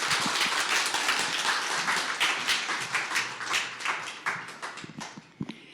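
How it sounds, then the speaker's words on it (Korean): An audience at an Amway business presentation welcomes a speaker with applause, loud and dense at first, then thinning into scattered individual claps and fading out. "박수로 모시겠습니다."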